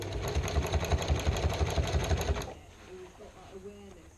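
A sewing machine runs in a fast, steady stitching burst, stitching two fabric edges together along a seam for a large toy, then stops abruptly, leaving quiet handling sounds and faint speech.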